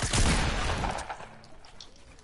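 Heavy shotgun gunfire in a creative-mode 1v1 video game match, a dense loud burst of blasts at the start that fades out over a second, followed by quieter game noises and a sharp click at the end.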